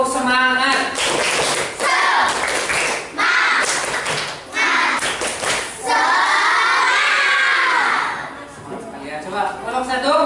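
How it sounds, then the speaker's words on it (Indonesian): A classroom of students performs a rhythmic spirit clap in unison: sharp, loud, patterned hand claps in quick groups, then a burst of cheering and voices from the group. "coba semangatnya, tepuk semangat."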